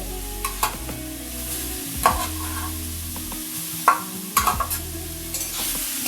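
Carrots fry in hot ghee with a continuous crackling sizzle while a utensil scrapes and stirs them in irregular knocks and scrapes, close and fairly loud, without talk.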